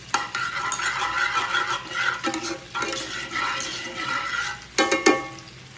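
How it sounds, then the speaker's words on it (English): Garlic and onions frying in a pan, a loud close sizzle that swells and fades as they are stirred, with a few sharp utensil knocks toward the end and no voices. "And my garlic. And let that cook for a second."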